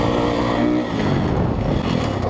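A motocross dirt bike in second gear roars up the face of a jump, its engine loud, close and continuous with a steady rasping note that dips briefly before climbing again.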